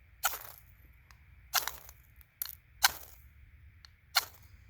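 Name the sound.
Cold Steel SRK-C knife spine scraping ferro rod, showering sparks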